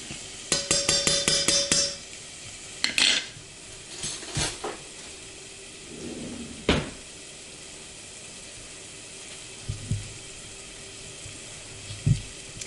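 Minestrone soup in a pot being stirred with a utensil, giving scattered clinks and scrapes against the pot in short bursts, followed by quieter intermittent taps and a low simmer.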